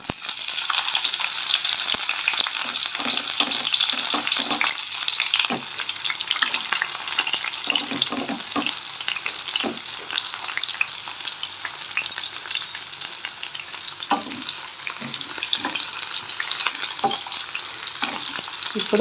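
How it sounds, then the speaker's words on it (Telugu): Cumin seeds sizzle and crackle steadily in hot oil in a pan, the start of a capsicum tomato gravy, with occasional stirring scrapes over a continuous close, fairly loud frying hiss and no talk. "కొంచెం జీలకర్ర, ఇప్పుడు ఇవి వేగుతున్నాయి."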